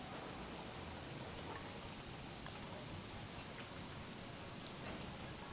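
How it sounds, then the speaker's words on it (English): Steady rain in the survival video game Don't Starve Together, a faint, even hiss of falling drops with no breaks, heard alone. "The rain."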